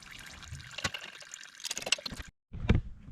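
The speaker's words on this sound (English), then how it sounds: "So I got the oil drained out." Engine oil drains from a Cub Cadet LTX 1050 lawn mower, a close, faint trickle and dribble of liquid with a few drips, broken by a brief silence near the end.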